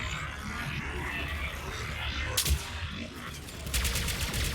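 Collector assault rifle from Mass Effect 3 firing in rapid bursts, with crackling volleys amid a noisy battle din; two sharper, denser stretches of automatic fire stand out, moderately loud.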